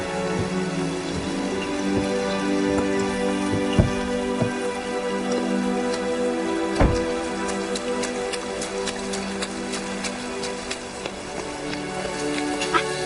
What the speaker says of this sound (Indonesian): Di luar masih hujan.